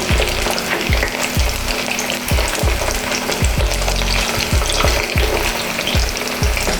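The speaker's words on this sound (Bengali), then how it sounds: "বারিস্তাটা যেই তেলে ভেজেছি আমি সেই তেলেই ভেজে নিয়ে এবার আমি আলুগুলোকে আলুটার আমরা দুটো সাইডই হালকা করে ভেজে নেব" Potato pieces fry in oil left over from frying onions for a fish biryani, making a loud, steady sizzle close up, broken by a regular series of low knocks from stirring or turning in the pan.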